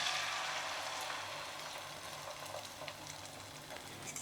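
Egg omelette mixture sizzling in a hot frying pan over low gas, a steady close crackling hiss that fades slightly after the first moment and continues alone.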